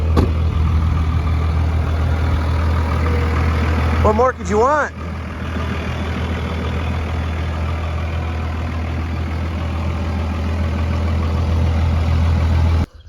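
Close, steady low diesel idle from a Cummins farm truck, running evenly throughout while someone speaks briefly over it midway.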